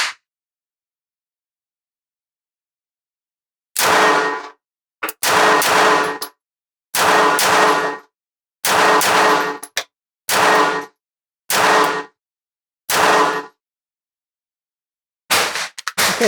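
A compact concealed-carry pistol fires double taps on a range, with about eight sharp, echoing bursts of shots spread unevenly across the quiet stretch.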